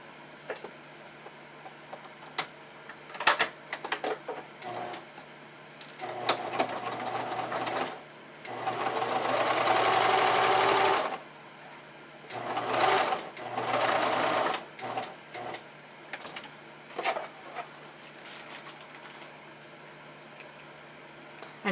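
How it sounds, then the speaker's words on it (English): A domestic sewing machine stitches the side seam of lace hipster panties in bursts of steady rapid whirring, with short pauses between runs and one longer continuous stretch, loud and close with no talking. "And then you can sew that side seam closed."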